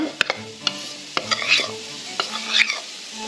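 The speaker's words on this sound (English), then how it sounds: "I'm going to stir it. Just going to stir that up." Taco seasoning stirred in a pan, sharp scrapes and clinks of the utensil against the pan over a soft sizzle, irregular strokes with brief gaps between them.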